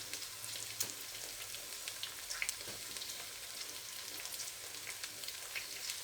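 Green chili frying in a pan with potato and eggplant: a soft, steady sizzle with scattered small crackles and pops, fairly quiet and continuous throughout.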